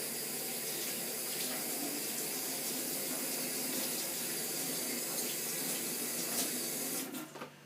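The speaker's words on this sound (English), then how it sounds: "So, I'll wash that off now, because I don't need that for a minute or two." Steady stream of tap water running into a kitchen sink while a utensil is rinsed off, a constant close hiss that cuts off near the end as the faucet is shut.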